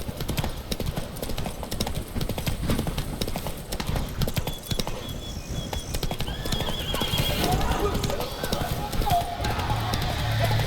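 Roach the horse gallops in The Witcher 3: Blood and Wine, hooves clip-clopping in a steady rhythm with an occasional whinny, while game music and a voice play over the top.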